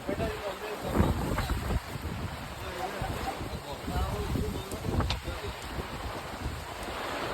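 Heavy rain lashes down with gusting wind in Odisha, a dense steady roar with buffeting rumbles on the microphone, and a voice talking underneath.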